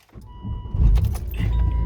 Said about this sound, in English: Back in the car. Got my keys.